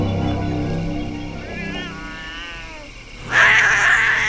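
A cat in an island alley on Geomundo, South Korea, meows with a drawn-out, wavering cry, followed by a louder, harsher yowl toward the end, over a low background rumble.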